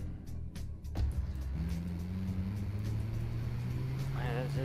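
A steady, droning van engine hum in GTA III rises in pitch as the van drives, with some clatter early on and a brief voice-like sound near the end.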